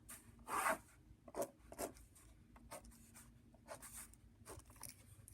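Pencil scratching across paper while drawing a math diagram, in short separate strokes and scribbles, close but faint, in a quiet room.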